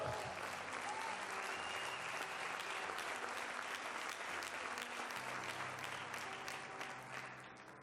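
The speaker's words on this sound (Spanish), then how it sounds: "Si va a aplaudir a Dios, dele duro." A church congregation applauds vigorously during a sermon, a dense continuous roar of clapping with a soft sustained keyboard chord beneath, tapering off near the end.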